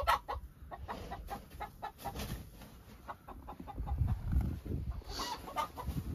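Chickens cluck softly inside a winter coop at minus nine degrees, with scattered short calls and a few louder bursts over a quiet, muffled background.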